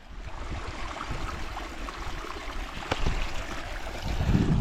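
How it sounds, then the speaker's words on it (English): Peaty moorland stream in the Peak District flowing steadily, a continuous close wash of running and trickling water that swells slightly louder toward the end, with no talking. "Oh, that is a stream."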